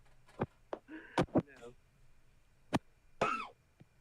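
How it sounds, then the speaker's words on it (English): A person coughs several times in short, sharp bursts, close and fairly loud, with throat-clearing sounds and brief pauses between the coughs. "I gotta stop coughing"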